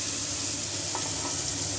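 Mango pieces dropped into a hot pan sizzle in a steady close hiss with light stirring, continuous and fairly loud, with no talk.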